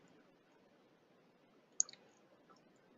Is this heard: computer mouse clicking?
yes